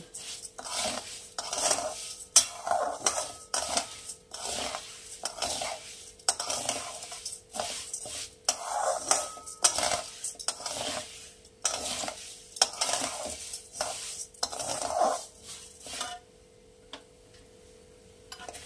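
A spoon stirs and scrapes vermicelli with sugar in a frying pan over heat, giving repeated irregular clinks and scrapes that keep going steadily and then stop near the end.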